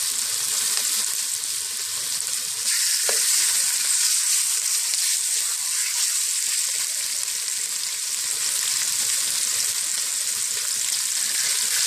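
Skirt steak marinated in a curry rub sears in a little olive oil, giving a steady, loud, continuous sizzle with crackling spatter that holds alone throughout.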